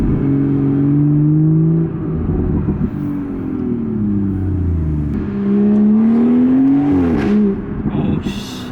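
A BMW 440i with ZF 8-speed automatic transmission accelerates hard, its engine revving up through rising and falling pitch sweeps, loud and close from inside the cabin, with a brief shift dip midway.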